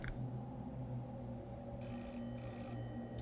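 A telephone rings inside a room in the horror video game Hollowbody, its tonal bell pattern steady and fairly close over a low ambient drone, with no talking.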